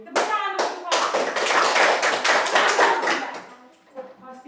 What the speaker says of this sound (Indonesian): Tepuk tangan untuk Faustin